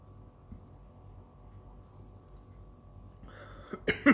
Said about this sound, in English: I went down the wrong hole and that's why I coughed